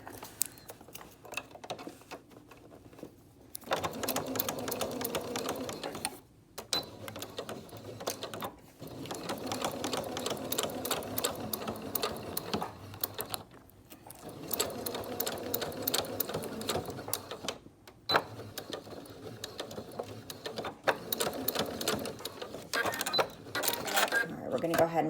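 A Singer sewing machine stitches a fabric 3-D face mask in steady rapid bursts of mechanical whirring, pausing briefly between runs, with close, moderately loud motor and needle rattle and talk over it at times.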